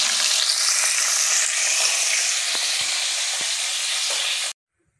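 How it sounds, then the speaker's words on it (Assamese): Pieces of turmeric- and salt-coated fish fry in hot oil, giving a loud, even sizzle with a few soft clicks from the pan, until the sound cuts off abruptly near the end. "অলপ অলপকৈ মাছকেইটা ভাজি ল'ম।"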